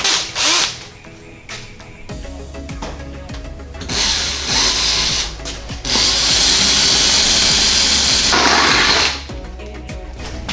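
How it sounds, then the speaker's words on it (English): A power drill bores through sheet metal during a vehicle build, with loud sustained whining runs broken by brief pauses and clicks, close to the listener. "just run the drill bit through again"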